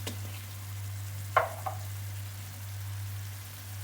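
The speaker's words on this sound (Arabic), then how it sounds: "صافي غنستمر في التحريك هكا" Cumin and paprika are stirred in hot oil with olive oil for Moroccan tektouka, a soft sizzle under a steady low hum, broken by a couple of brief utensil knocks against the pan.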